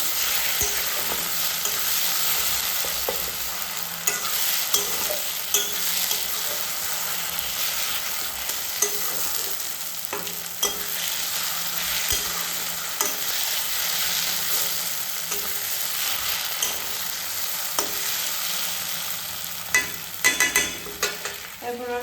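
Spicy chicken pieces fry in hot oil until browned, a continuous close sizzle broken by repeated clanks and scrapes of a spoon stirring the pan, with no voices.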